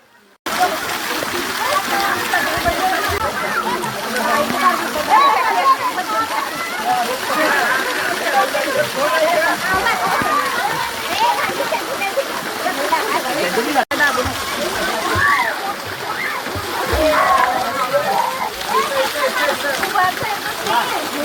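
Water splashing steadily at an artificial waterfall by the Kagal percolation tank, a continuous broad rushing wash that runs the whole time with people talking over it.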